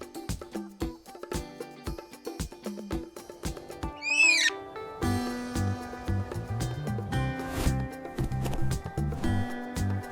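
An owl hoots over a bouncy musical backing, the call rising out of the tune around the middle amid other animated sound effects.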